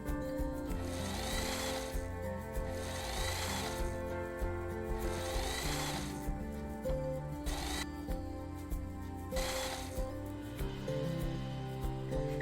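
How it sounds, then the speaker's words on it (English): A sewing machine runs in several bursts of rapid mechanical whirring, pausing briefly between runs, with a steady motor hum underneath. "Remove the straight pins as you sew on your sewing machine."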